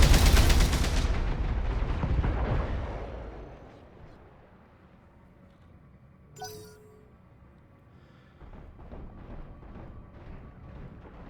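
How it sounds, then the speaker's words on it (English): A mech in a video game fires all its weapons at once, a loud dense barrage of blasts for the first couple of seconds that fades into a rumbling tail, with a brief sharp clank later and low game ambience. "Firing all weapons."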